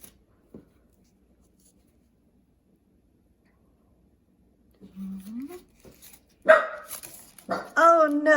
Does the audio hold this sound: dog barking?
yes